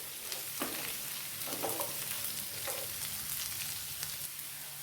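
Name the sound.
sautéing bitter gourd with garlic and curry leaves in oil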